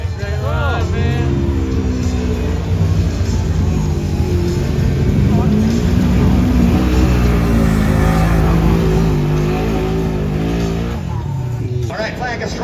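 Mud bog truck engine revs hard and roars while churning through mud at a fall mud bog event, loud and sustained with rising and falling pitch, an announcer talking over it.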